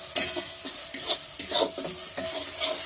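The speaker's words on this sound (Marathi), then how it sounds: "हे छान एकसारखं परतून घेणार आहे।" Ginger-garlic-coriander paste and ground onion-coconut masala sautéing in a pan, a close steady sizzle punctuated by repeated scraping strokes of a spoon, with no voices.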